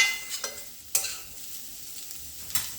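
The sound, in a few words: carrots being sautéed and stirred in a pan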